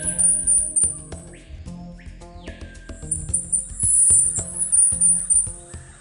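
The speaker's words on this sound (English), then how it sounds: "the soft and high-pitched call of the pectoral sparrow" Pectoral sparrow giving a soft, thin, very high-pitched call deep in forest, drawn out in long sustained notes over a layer of gentle background music.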